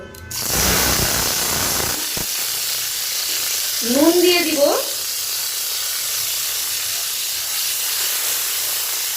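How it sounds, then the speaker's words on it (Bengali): Bitter gourd slices fry in hot mustard oil in a kadai, giving a steady, close hiss and sizzle from start to end, with a voice speaking briefly over it. "ওই তেলে আমি ভেজে নিব উচ্ছেগুলো"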